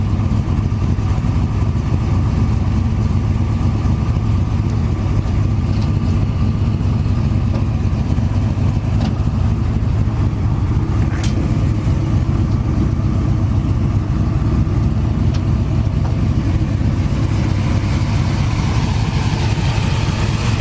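A 1971 Chevelle Heavy Chevy's V8 runs close by, a steady, rumbling idle with mild revving and a constant low throb throughout.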